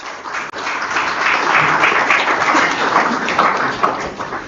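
An audience at a postgraduate research workshop claps for a professor, a loud, continuous burst of applause from a roomful of people, holding steady from start to finish.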